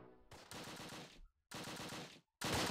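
Machine gun fire in the World War II tactical game Close Combat, three sustained rattling bursts separated by brief silences, loud and close, with the final burst the strongest.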